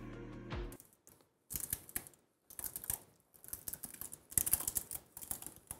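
Keys tapped on a laptop keyboard made sticky by spilled liquid, irregular clusters of sharp close clicks separated by brief pauses, with no speech.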